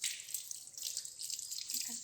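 Hands washed with soap under running tap water, a steady splashing hiss of the flowing stream with a few brief low drips and gurgles near the end, fairly close and quiet, with no one talking.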